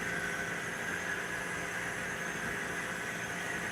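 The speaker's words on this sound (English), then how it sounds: "Got a grain train running." A model railroad grain train runs steadily on the layout of an Ohio model railroad club, giving off a continuous close rolling rumble and hiss of wheels on track without pause.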